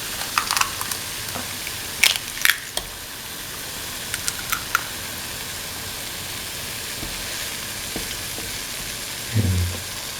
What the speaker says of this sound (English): Let it fry for around 2 minutes